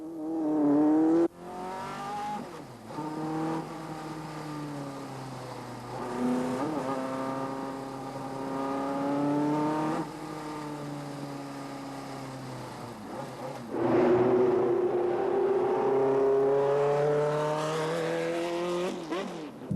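A V8 Cosworth-engined racing car revs hard and shifts through gears on the Montlhéry circuit, pitch climbing and dropping repeatedly as it laps, loud and close with no voices.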